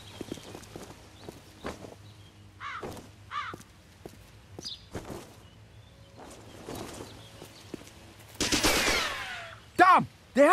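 Machine gun fire in a Royal Marine Commando war video game, heard as scattered sharp shots and short bursts amid footsteps and ambient battle noise, building to a loud dense burst of gunfire near the end.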